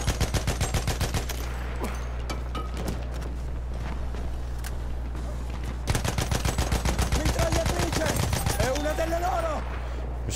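Machine gun fire in a shooting video game: rapid, loud bursts of regular shots near the start and again after a pause, with a steady low engine-like hum underneath and a voice talking partway through.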